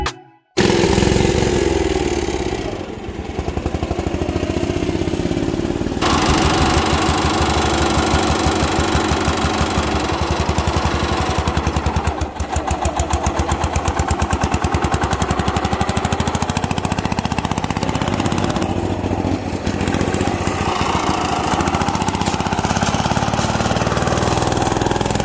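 A custom-built diesel mud mower engine runs steadily and loudly throughout a first test drive outdoors, with a continuous knocking, clattering drone and slight shifts in load, with no talking.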